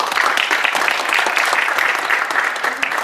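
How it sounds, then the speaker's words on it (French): Applause from an audience at the opening ceremony of a tournament in Paris, close and lively, with dense, uneven clapping throughout. "applaudissons-nous tous pour commencer cette cérémonie d'ouverture"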